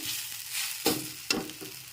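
Grated potato mixture for vegetable chops stirred in a hot pan, a soft continuous sizzle broken by two sharp scraping strokes of the spoon against the pan, close and quiet.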